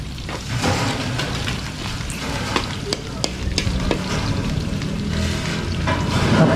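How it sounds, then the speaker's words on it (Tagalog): Ingredients for papaitan sautéing in a pan, a dense, loud sizzle with repeated scraping and stirring knocks throughout, heard up close without talk. "Gigisa na po para sa papaitan."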